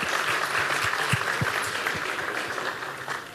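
Audience applause fills a town hall meeting, a steady dense clapping from a large crowd that carries on without pause, with no talk over it.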